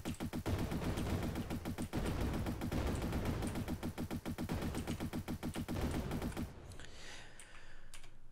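Rapid, continuous bursts of gunfire from a twin-stick arena shooter video game, dense and rhythmic for about six seconds, then cutting off to quieter game ambience; no talk.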